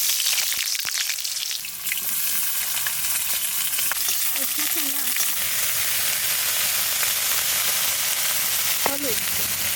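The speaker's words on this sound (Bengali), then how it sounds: "সর্ষের তেল, বেগুন কটা আমি হালকা করে ভেজে নেব" Brinjal fries in mustard oil with a loud, steady hiss and crackle that stays even throughout, with faint scraping here and there.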